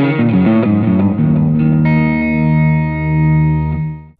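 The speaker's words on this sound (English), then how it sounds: "So here's a digital delay." Electric guitar through a Spark amp with a digital delay effect, a few sustained distorted notes and chords ringing out with repeating echoes, loud and alone.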